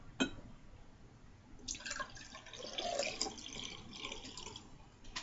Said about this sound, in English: Let's pour the root beer out.